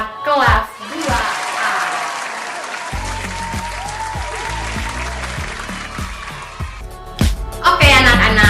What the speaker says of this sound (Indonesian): mari kita memberikan tepuk tangan untuk anak-anak kelas 2A